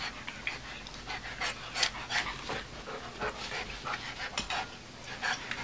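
A small dachshund pants quickly and breathily during a tug-of-war game, the rough, uneven huffs close by and fairly quiet, with occasional soft scuffling.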